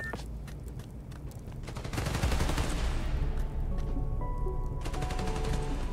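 Gunfire aimed at power station transformers in Spider-Man Miles Morales, with rapid automatic bursts that build into a dense, loud fusillade and run continuously for several seconds.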